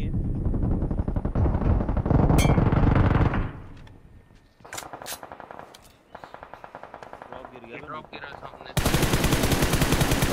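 Gunfire in the Battlegrounds Mobile India video game rattles in loud automatic bursts with short pauses between them, ending in a dense, sustained volley.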